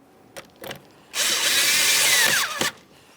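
A power drill or driver runs in one steady burst of about a second and a half, tightening an 8mm-headed clamp on a 1998-2011 Ford Ranger during windshield washer reservoir replacement, with brief clicks and handling knocks before and after; no talking.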